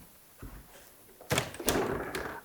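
A hidden door in an 1840s period house is opened, with a soft knock and creak giving way to a louder clunk of the latch and a scraping swing, close and alone.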